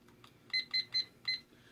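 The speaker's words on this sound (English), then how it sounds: "I've got a little timer here." A small digital timer, set for mixing epoxy resin with mica powders, gives four quick, clear electronic beeps in a row, close up and alone in a quiet room.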